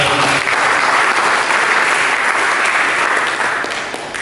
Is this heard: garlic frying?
no